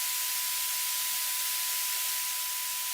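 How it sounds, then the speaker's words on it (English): Steady broadband white noise partially ducked by a sidechain compressor, a constant loud hiss running alone throughout with a faint steady tone beneath it. "partial ducking is happening. We are still hearing some white noise when track A is making sound."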